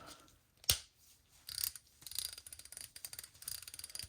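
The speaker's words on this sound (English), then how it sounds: "these two ratchets, vintage ratchets I might add, are ready to service again. Let's put a little socket on here." Vintage Snap-On Ferret F-70N and Proto 4749 ratchets with a socket fitted give sharp, close metallic clicks: one crisp snap followed by bursts of rapid ratcheting in quick runs, with no talking.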